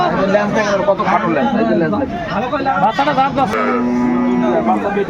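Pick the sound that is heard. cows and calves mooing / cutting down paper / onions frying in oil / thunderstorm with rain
cows and calves mooing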